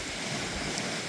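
Waves rolling onto a beach below a lookout at Point Creek, a dense, continuous wash of surf blended with wind noise, no talking.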